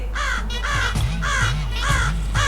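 A crow caws repeatedly in a steady rhythm in a video game, loud and close, with a constant low hum underneath.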